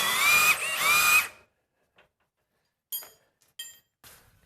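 A power tool whirs in two loud bursts with a brief dip as it works on a rear shock absorber bolt of a Mercedes, then stops, followed by a few sharp metallic clinks and ratchet clicks.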